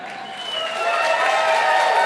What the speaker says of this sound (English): Let's do a Hollywood clap